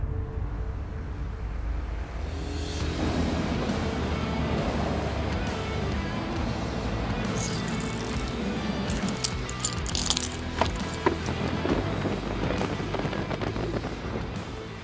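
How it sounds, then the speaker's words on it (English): Wind and choppy water slap and rumble around a fishing boat on Lake St Clair, a steady, broadband wash with scattered sharper splashes and knocks against the hull, no voices. "This wind picked up and it's gotten bumpy."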